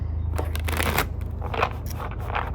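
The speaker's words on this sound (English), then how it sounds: "Let's do one more nice shuffle." Tarot cards riffle and rustle in a continuous close shuffle over a low steady hum, with brief swells of brisker motion.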